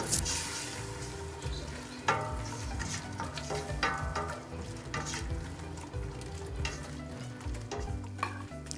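Patis (fish sauce) bubbling and sizzling in a pot while chicken arroz caldo is being cooked, a dense continuous crackle with scattered sharp pops and light clinks of utensils nearby.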